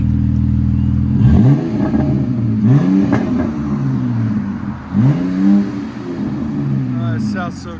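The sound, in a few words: 2022 Ram 1500 3.6L V6 with Flowmaster Super 44 exhaust revving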